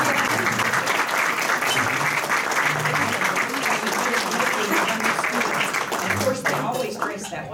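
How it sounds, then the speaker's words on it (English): A room of Rotary Club members at a career day meeting gives a sustained round of applause for standing high school students, thick continuous clapping that tapers off near the end, with some murmured voices underneath. "So if our students could please stand for a round of applause."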